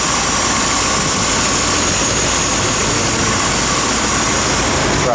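1971 Chevrolet Corvette engine running close up with a steady, dense roar and broad mechanical noise, holding an even level throughout the short stretch with no voices.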